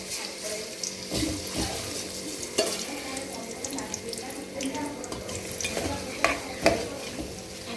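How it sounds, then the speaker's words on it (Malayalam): Prawns dropped into hot oil for a Kerala-style prawn roast, sizzling and crackling steadily up close with scattered sharp pops and clinks of stirring; no talking. "എണ്ണ ചൂടായിരിക്കുകയാണ്, കൊഞ്ചിനെ നമുക്കിടാം."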